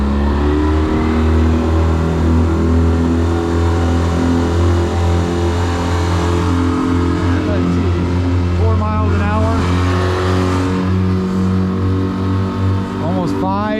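A 20-foot Alumiweld jet boat with a Yamaha F175 V-Max outboard drones steadily at high revs after being put in gear, loud and close throughout, with a voice briefly heard over the engine.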